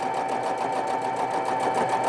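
Sewing machine stitching fabric pieces for a baby swaddle, a rapid, even mechanical whir with a regular pulsing rhythm, close and continuous for a couple of seconds.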